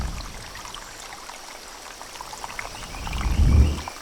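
Tiny male rock frogs, about two centimetres long, call beside a rushing rainforest stream and waterfall; constant water noise fills the background, and a short, low, louder burst comes near the end.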